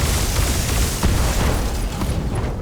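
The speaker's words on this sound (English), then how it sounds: "an ammo explosion" An ammunition explosion rips through a mech in the BattleTech game, a loud, dense roaring blast that fills the whole moment with rumbling, crackling noise and no talk.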